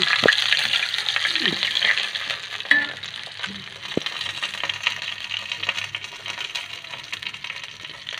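Andhra-style Rayalaseema fish fry crackles and sizzles steadily in a pan, with a few sharp clinks and scraping touches as the pieces are turned, all close and fairly quiet.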